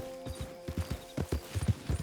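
Horses walking in Red Dead Redemption 2, with a steady, fairly close clip-clop of hooves over a faint background hum and no voices.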